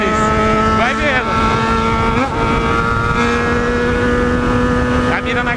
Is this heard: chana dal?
no